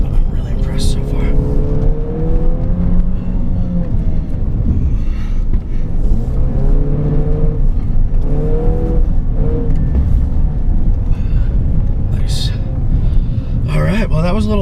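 A 2016 Jeep Renegade Trailhawk driving hard off-road on dirt and stone gravel, engine loudly revving and rising and falling in pitch throughout, close and steady, with someone talking over it.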